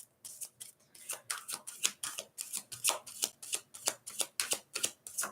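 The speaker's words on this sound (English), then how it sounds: "All right, one more shuffle." A deck of cards is shuffled over and over, a rapid run of about twenty crisp riffling bursts in a steady rhythm, close and fairly quiet, with no talk.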